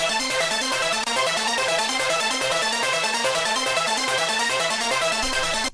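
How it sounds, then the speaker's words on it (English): A repetitive synth pluck pattern from the Trauma pluck preset in a Serum bank loops steadily in a dense, bright rhythmic sequence, loud and continuous with no voices. "just like a repetitive pluck pattern"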